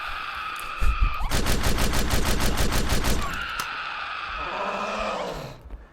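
Rapid automatic gunfire rattles in an SCP horror video game, a dense burst of shots lasting about two seconds, followed by lower roaring game noise that fades out.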